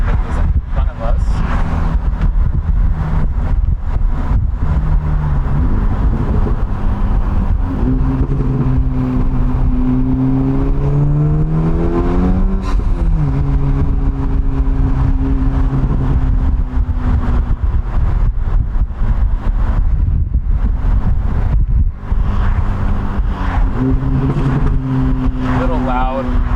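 An Acura Integra Type S drives on the road, its engine droning and swelling through rising and falling revs, with scattered sharp exhaust pops and bangs on downshifts, loud and close throughout.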